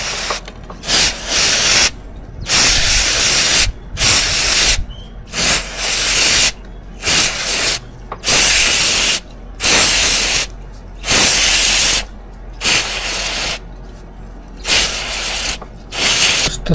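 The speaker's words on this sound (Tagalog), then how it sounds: "Spray na natin siya ng paint cleaner." Paint cleaner is sprayed from a can in repeated short and longer bursts, each a loud, close hiss separated by brief silences, about a dozen blasts in steady succession with no speech.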